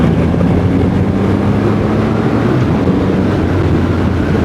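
A Triumph Rocket 3 GT motorcycle rides along a road, a steady low engine drone mixed with heavy wind rush, loud and continuous throughout with no talking.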